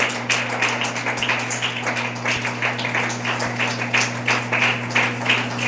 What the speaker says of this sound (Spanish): denle un aplauso al Señor Jesucristo, hermano